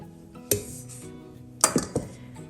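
Muffin batter being mixed in a bowl after dry ingredients are added, a few sharp clinks of a utensil against the bowl over a quiet background, one near the start and a quick cluster toward the end.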